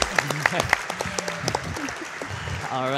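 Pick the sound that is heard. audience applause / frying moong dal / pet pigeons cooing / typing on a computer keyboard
audience applause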